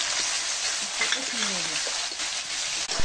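Chicken masala with garlic, cumin and ginger sizzles and fries steadily in a pan at close range while it is stirred. A voice is faintly audible in the background.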